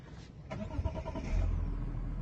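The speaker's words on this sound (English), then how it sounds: "Let me start this engine up." A Mazda CX-80 with a 3.3-litre straight-six diesel cranks and catches, settling into a close, steady low idle rumble after a brief starter burst.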